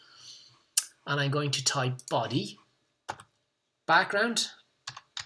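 A few brief, sharp keyboard clicks while typing code into a web editor. The clicks are scattered in the pauses of a person's ongoing explanatory speech, which dominates the clip.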